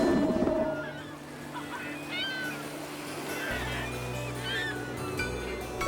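A flock of seabirds gathered over feeding fish calls in bright, overlapping wavering cries, several birds at middle distance above a steady low rumble of water or a nearby barge engine.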